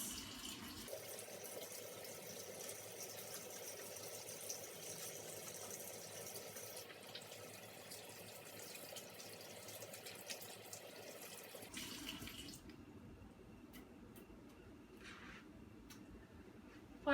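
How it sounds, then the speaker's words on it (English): Hands being washed under a running kitchen tap with warm water, a steady hiss of flowing water that stops near the end, leaving a quieter stretch with faint handling sounds. "You're going to need to wash your hands in warm water for about 20 seconds."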